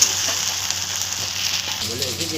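Hot oil spattering in a pan with ginger garlic paste for vetki fish jhal, a constant close hiss of frying with small irregular pops and crackles, no pauses.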